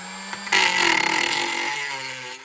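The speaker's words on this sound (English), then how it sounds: "There's a few spots of hits that I have to clean up with a Dremel" A Dremel rotary tool cleans up metal plates for a homemade gas engine, giving a loud, steady high-pitched whine that starts abruptly after a couple of faint taps.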